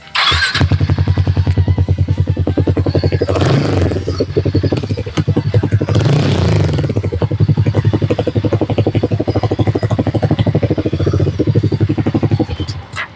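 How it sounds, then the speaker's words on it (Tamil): Harley-Davidson X440 motorcycle exhaust note: the engine starts and idles with a loud, close, steady thumping rumble, revved a couple of times in between, running alone without talk. "எக்ஸாஸ்ட் நோட்டு கேட்டிருப்பீங்க, உங்களுக்கு ரொம்ப பிடிச்சிருக்கும்"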